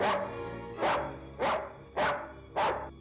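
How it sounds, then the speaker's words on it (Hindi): A dog barks five times in a steady, evenly spaced rhythm, each bark loud and close with a brief echoing tail, standing alone without other sounds. "ये कुत्ता भौंक क्यों रहा है?"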